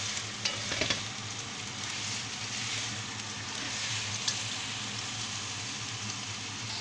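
Homemade taco filling sizzles and crackles steadily in a hot pan, with a few brief scraping stir sounds early on; the frying is close and continuous, and no voices are heard.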